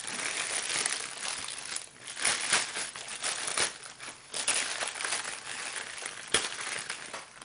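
Stiff plastic packaging of an Afterglow wireless headset for PS4 and PC is pulled and cut open, giving close, irregular crackling, crinkling and crunching bursts.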